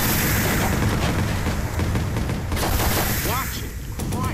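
Dense, continuous gunfire and explosions from a Watch Dogs video game as tires on a truck are shot at, loud and crowded throughout, with a few short chirping tones near the end.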